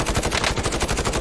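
Rapid automatic gunfire from a squad match in Call of Duty Warzone rattles in a dense, loud burst of repeated shots across the whole moment, with no talk over it.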